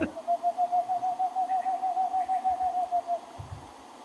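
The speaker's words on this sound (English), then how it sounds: "Boreal owl, Aegolius funarius" A boreal owl, Aegolius funereus, gives a rapid, even series of about twenty soft hooting notes lasting a few seconds, clear and fairly close over a quiet background.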